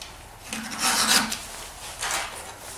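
A hand file rasps across a chainsaw chain to sharpen it, two short close scraping strokes, the first longer and louder, each a gritty rising-and-falling rub.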